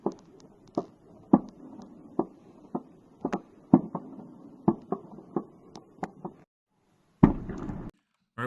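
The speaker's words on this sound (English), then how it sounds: "lots of secondary explosions going off" Secondary explosions at a destroyed ammunition depot in occupied Luhansk region: a steady run of sharp pops and bangs, some louder than others, over a low crackling rumble, heard from a distance.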